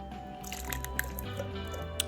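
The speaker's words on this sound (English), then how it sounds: "I'm taking all 4 of the cans I opened, pouring them into the pot of stew" Canned tomatoes and their juices pour into a pot of vegetable stew, giving soft wet squishing and dripping with a couple of small splats, close by, with no talking.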